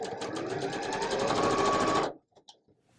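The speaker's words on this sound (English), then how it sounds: "I'll probably sew 2 together and then sew them to that set that I just sewed" A sewing machine stitches pre-cut quilt fabric strips together in a fast, steady close run for about two seconds, then stops abruptly, leaving a few faint clicks.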